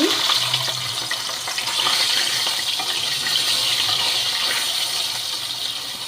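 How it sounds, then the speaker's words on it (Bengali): Rohu fish pieces slid into hot oil for a spinach and fish curry set off a steady, loud broadband sizzle that holds evenly throughout, with no talking. "এদিকে তেলটা গরম হয়ে গেছে এদিকে আমি মাছগুলোকে ছেড়ে দিচ্ছি"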